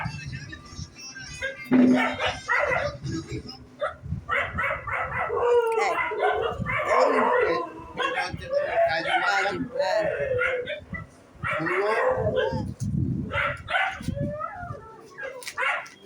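Several dogs bark repeatedly in short bursts at a household, some yips and howl-like calls among them, moderately near, with people talking in between and over the barking.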